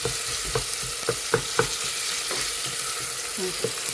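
Tomato frying in a pan, sizzling steadily while a spoon stirs and taps against the metal in a quick irregular run of knocks, close up with no voices.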